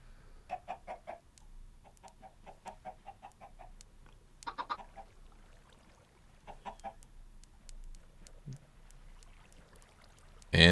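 Chickens in the video game Minecraft cluck in quick short bursts, several clusters of soft clipped calls spread across a quiet background with pauses between.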